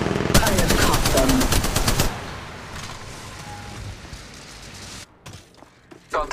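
Rapid automatic gunfire from the mobile shooter game Apex Legends Mobile, a loud burst of dense repeated shots for about two seconds, then a quieter stretch of game ambience with a few faint clicks and a short thump near the end.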